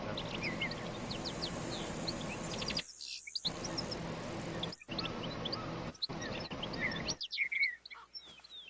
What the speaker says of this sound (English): are the birds loud in this game?